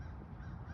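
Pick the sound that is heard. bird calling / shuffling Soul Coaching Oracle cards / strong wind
bird calling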